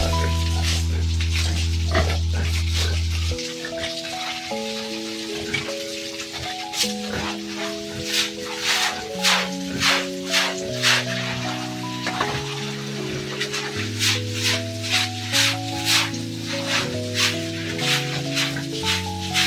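Native pigs grunt and oink in a run of short rhythmic snorts, moderately close, laid over steady melodic background music that begins after a low droning opening.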